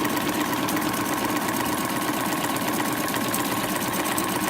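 A sewing machine running steadily while stitching a stippling pattern on a tee shirt quilt, a loud, fast, even mechanical whir and rapid needle chatter that hold without pause, heard up close.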